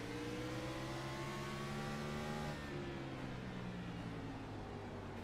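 A Gen 6 stock car engine at Martinsville drones with a smooth, steady buzzing tone that sags in pitch halfway through and then settles, heard from onboard and moderately loud, with no voices.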